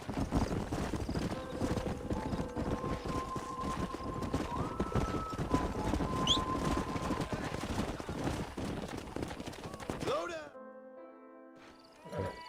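Hoofbeats of a galloping horse in the Red Dead Redemption western game, a steady loud clip-clop with a brief neigh, over game music and wind, cutting off near the end.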